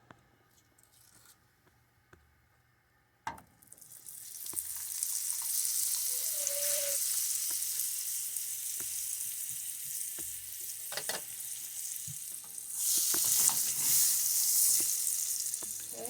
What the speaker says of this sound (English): put some butter in your hot frying pan